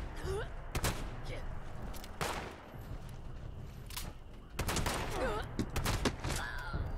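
Shotgun blasts in the video game Fallout 76, several sharp, loud bangs scattered irregularly across a few seconds, mixed with other combat noise and someone talking in between.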